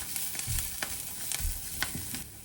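A vegetarian meatball mixture with chopped fresh parsley fries in a pan, a steady close sizzle broken by several soft scraping stirs.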